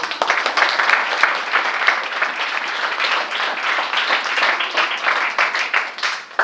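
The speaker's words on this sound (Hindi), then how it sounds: "ताली बजा दीजिए।" A church congregation claps loudly and steadily throughout, a dense, sustained round of applause from many people.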